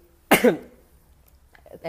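A woman coughs sharply twice in quick succession, close and loud, followed by brief quiet and the start of her speaking voice.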